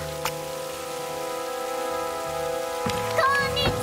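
Rain falls steadily in the forest of the PC game Tomb Raider, a constant hiss with soft droplet texture, broken near the end by a brief burst of other game sounds.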